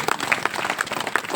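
Applause from a crowd at a Birsa Munda Martyrs' Day gathering in Danardanpur village, steady mixed clapping held at moderate level for a brief stretch.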